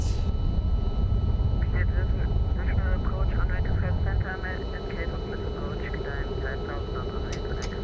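An MD-11 jet airliner in the X-Plane flight simulator roars steadily down the runway on its takeoff roll, a loud continuous engine rumble with a pilot's voice calling out speeds over it.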